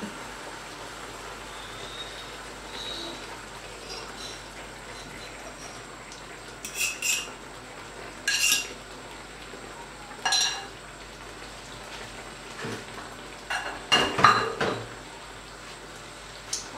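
Eggs mixed with olive oil, spices and salt in a bowl give off scattered clinks and scrapes of a utensil against the bowl, quiet and intermittent over a faint, steady background hiss.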